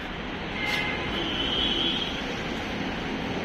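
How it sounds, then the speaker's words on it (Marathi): The Nagpur–Pune Express, stationary at a Pune railway station platform, hums steadily, a broad low rumble with faint hissing and a brief higher whine, no voices. "ही ट्रेन इथं सध्या थांबलेली आहे."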